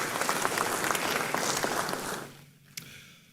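A lecture audience applauds a guest with dense, continuous clapping that fades out after about two seconds, followed by a single sharp knock.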